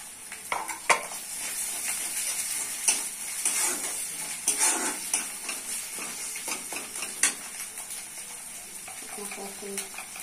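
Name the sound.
ginger-garlic paste frying in oil with onions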